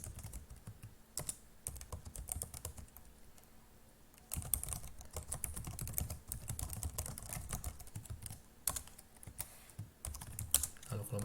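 Fast, irregular clacking on a computer keyboard while entering a short program in a Linux terminal editor, close and fairly quiet, with bursts of keystrokes and brief pauses.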